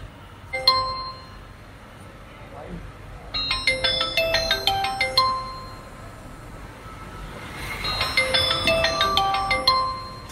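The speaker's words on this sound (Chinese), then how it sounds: "刚才打电话没接，嗯，再给他打一个。" A mobile phone rings on an outgoing call that goes unanswered, two bursts of bright chiming tones repeating in a rhythmic pattern, loud and near over a low background rumble.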